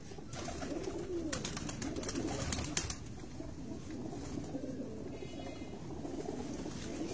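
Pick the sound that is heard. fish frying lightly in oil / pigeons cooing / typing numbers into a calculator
pigeons cooing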